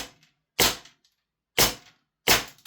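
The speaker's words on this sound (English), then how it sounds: "that crack that you're hearing is the rounds hitting the target box" Suppressed Gate PTX airsoft gun firing BBs that crack against a target box: three sharp, separate snapping impacts with quick decays, no talking.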